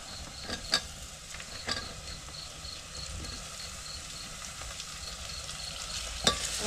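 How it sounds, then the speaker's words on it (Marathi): Onions browned in a pan with tomato tossed in and stirred, a continuous gentle sizzle with occasional spoon knocks and scrapes against the pan, close and without talk. "आता कांदा लालसर झाला आता टमाटर टाकून घेते"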